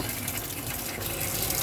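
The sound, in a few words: water running from taps in a caravan, pumped by water pump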